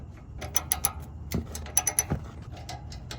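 A ratchet fitted with a low-profile socket loosens the exhaust bolts on a BMW in a tight space. Quick bursts of mechanical clicking come in short rapid runs between pauses.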